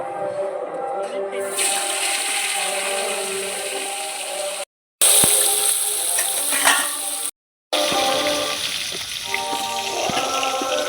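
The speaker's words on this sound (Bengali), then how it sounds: "অল্প করে ভেজে নিলাম ফুলকপিগুলো" Cauliflower florets fry in oil in a wok with a steady, broad sizzle that cuts out twice for short gaps, while a voice and faint music play over the crackle.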